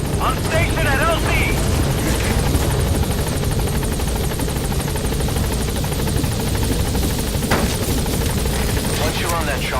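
A helicopter in the Metal Gear Solid V video game, its rotor drone steady and close throughout, with occasional voices and chirps layered over it.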